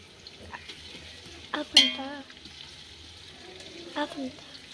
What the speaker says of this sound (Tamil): இப்போ நல்லா வதக்கணும், ப்ரௌன் ஆகிற வரைக்கும்.